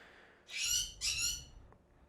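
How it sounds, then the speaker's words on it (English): A pet bird gives two loud, harsh screeching calls in quick succession, each about half a second long, close to the microphone, then a faint trailing chirp as the sound fades. "Sorry about my bird."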